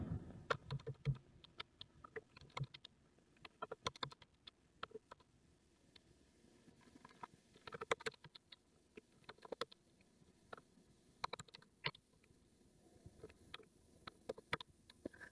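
Fast, uneven typing on a computer keyboard while entering daily expenses into an Excel spreadsheet, with close, crisp key clicks in bursts and short pauses and no talking.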